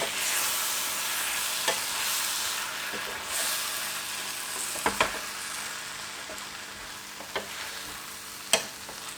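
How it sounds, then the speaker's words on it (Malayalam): Cooked okra masala simmers and sizzles softly in an open pan while a spoon stirs it, giving occasional scrapes and a couple of crisp taps against the pan; close but fairly quiet, with no voices. "നമുക്ക് തുറന്നിട്ട് ഒന്ന് ഇളക്കി കൊടുക്കാം"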